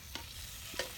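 Bacon frying in a pan gives a soft, steady sizzle with two brief clinks or scrapes, heard close and alone with no talking.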